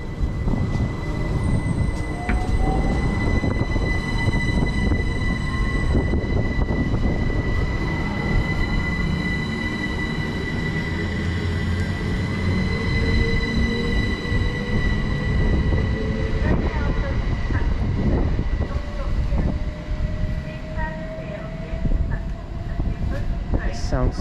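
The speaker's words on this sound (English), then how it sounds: "Got a love 387s for that noise they make, especially when it goes further away." A Great Western Railway Class 387 electric multiple unit pulls away from a London station platform, its rising traction whine and squealing tones climbing steadily over rumbling wheels as it departs, with a voice speaking briefly nearby.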